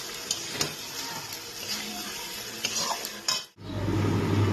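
Gathi kochu and potato stir-fried in a pan for a gathi kochu aloo recipe, with a steady scraping stir and sizzle, a few sharp utensil clicks, then a sudden louder hiss near the end.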